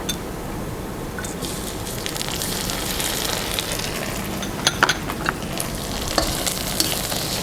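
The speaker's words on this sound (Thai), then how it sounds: "เราจะน ำกุ้งนะคะ ลงไปผัดต่อค่ะ" Shrimp being stir-fried in a pan with golden fried shallots and garlic for a glass-noodle pad thai: a steady, close hiss of frying with a few sharp pops and ticks scattered near the end.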